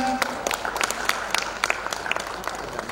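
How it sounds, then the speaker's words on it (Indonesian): Participants in a training session give light applause with scattered, distinct claps. The sound is fairly faint and room-like, with a few overlapping hands rather than a large crowd. "kita berikan tepuk tangan"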